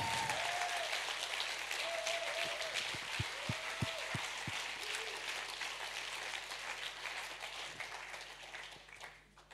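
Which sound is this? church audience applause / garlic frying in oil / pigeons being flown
church audience applause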